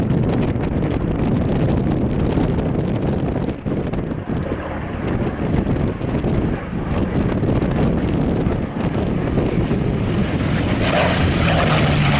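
A P-40 fighter powered by a 1200 horsepower Allison V1710 engine passes at an air show, a steady loud engine roar with heavy wind buffeting throughout and no talking.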